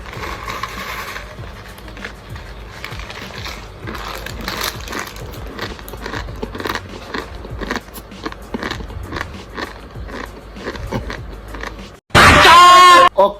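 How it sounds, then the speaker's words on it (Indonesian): Dry, uncooked Mie Sedap instant noodles are crunched and chewed as a snack, giving repeated crisp, irregular bites close to the microphone, followed by a sudden loud burst of sound at the end. "Itu sensasi kita ngunyah-ngunyahnya itu bersuara gitu lah."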